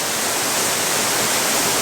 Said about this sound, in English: this is definitely more like it for a waterfall. We've got a nice cascade coming in.